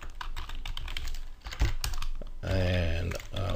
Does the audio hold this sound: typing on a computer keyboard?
yes